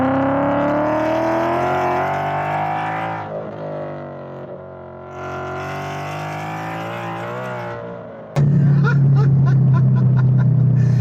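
A Ford Mustang GT V8 making over 500 horsepower, modified to rev like a Shelby GT350, sends out a loud, close exhaust note in long sustained revs that dip and climb again, then a sudden harsher, deeper blast.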